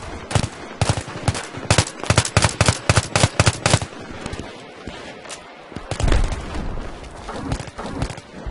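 Rapid bursts of automatic gunfire and explosive weapon fire in the shooter game Battlefield 3, loud and close, rattling in dense volleys for several seconds before a heavier boom and rumbling aftermath.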